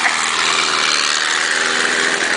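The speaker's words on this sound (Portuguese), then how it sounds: "o motor dele tá meio devagar" An off-road buggy's small engine runs sluggishly and steadily in second gear at a fairly even pitch, loud and close, with a constant buzzing drone and no voices.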